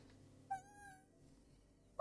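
A person imitates a cat's meow with a single drawn-out vocal mew, fairly clear and close, over quiet background hum with no other talk.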